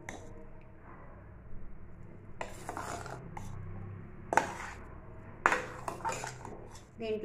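A metal spoon scrapes and clinks against a pot while chakkara pongal with edible camphor is stirred, with a few sharp knocks and rasping strokes over a quiet background.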